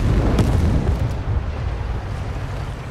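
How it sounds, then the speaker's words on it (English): Artillery fire booms in World War 3, a war video game set in the Smolensk warzone, as a dense, continuous low rumble with a couple of sharper blasts early on, loud and close throughout. "our artillery is commencing fire"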